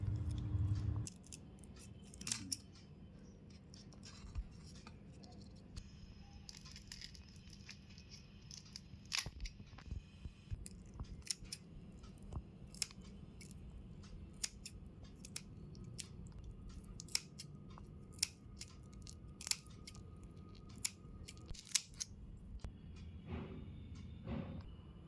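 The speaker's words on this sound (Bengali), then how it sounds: "চিংড়ি মাছগুলো কেটে আমি পরিষ্কার করে নেব" About 500 grams of large prawns being cut and cleaned with scissors, a quiet, close series of crisp snips at irregular intervals over a low background hum, with no talking.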